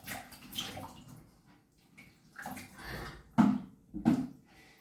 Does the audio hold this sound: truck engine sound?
no